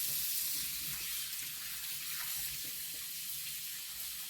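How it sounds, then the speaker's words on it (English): Tap water runs steadily over raw chicken being washed in a sink, a continuous close hiss and splash with slight fluctuations and no voices. "As I wash the chicken, I'm going to keep it here. So, I'm only washing the chicken. You can hear the sound of the water, right?"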